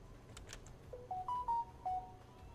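A phone gives a short run of notification beeps: several brief electronic tones stepping up and down in pitch, fairly close and clear over a quiet room hum.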